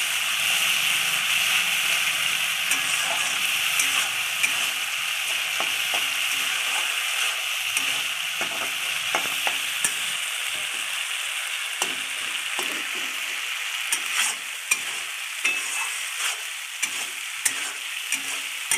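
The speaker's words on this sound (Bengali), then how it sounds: "মশলাটাকে কষিয়ে নিচ্ছে ভালো মতন।" Spice paste for a fish curry sautés and is stirred in a pan, giving a bright continuous sizzle broken by frequent scraping spatula strokes and small clicks throughout.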